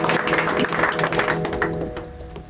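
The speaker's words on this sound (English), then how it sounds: "Please give me a round of applause and I'll start this song." A stand-up comedy crowd breaks into a brief, dense burst of clapping, loud and close, with faint musical tones underneath as a song is about to begin.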